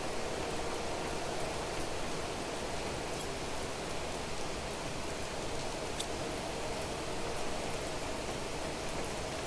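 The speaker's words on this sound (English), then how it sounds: "It's raining inside the base." Rain falling inside a base in The Planet Crafter video game, a continuous even hiss of dense droplets with no breaks, with a couple of faint clicks partway through and no voices.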